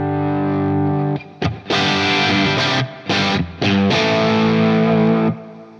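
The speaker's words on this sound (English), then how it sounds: "That's the old school Marshall sound." Overdriven electric guitar through a Marshall JTM45-style amp tone with crunchy distortion, played in chords and short phrases with brief pauses between strummed bursts.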